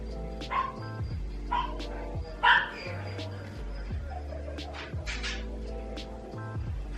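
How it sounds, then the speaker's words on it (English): A dog barks and yips in short bursts from another floor of a house, fairly distant, while a steady low hum runs underneath. "My dog is going crazy downstairs."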